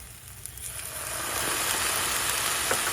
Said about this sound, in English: I'm going to add just a little bit of water to this pan. It's going to sizzle up.